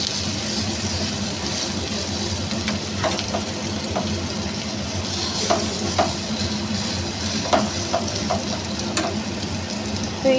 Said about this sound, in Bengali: তো এইভাবেই আমি বড়াগুলোকে ভেজে নিয়ে তুলে নেব।